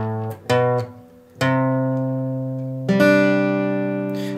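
Acoustic guitar moves from the first section into the second of a song: a few quick strums, then a chord ringing out, then a fresh chord struck and left to sustain, played solo without speech.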